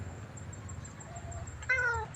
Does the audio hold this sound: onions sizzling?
no